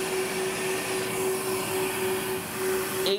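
An upright vacuum cleaner running steadily and loudly at about 82 dB, a constant motor whine over broad airy rushing noise, close by with no talking.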